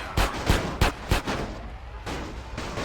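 Gunfire and explosions from GTA San Andreas: four loud booming shots in quick succession, then a heavier blast over constant game noise.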